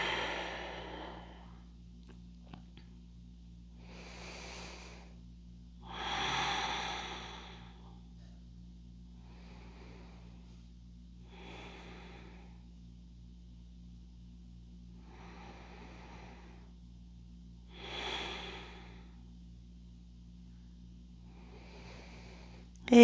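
Slow, deep breaths during a yoga relaxation, each soft inhale and exhale swelling gently every few seconds over a steady low hum, with near silence between breaths and no talking.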